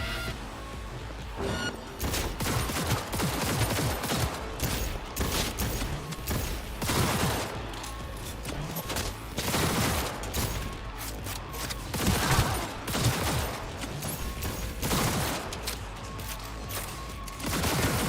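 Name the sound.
gunfire in the video game Cyberpunk 2077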